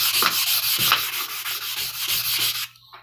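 Sharpening stone rubbed flat on 3M 320 grit black wet-dry sandpaper, a steady close rasping scrub with rhythmic back-and-forth strokes that stops abruptly near the end.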